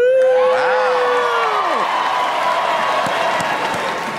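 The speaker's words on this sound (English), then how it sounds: "They're probably going to cheer even louder." A large talent-show audience claps and cheers loudly in a big hall, with a sustained roar of applause and a whooping, rising-then-falling crowd shout at the start.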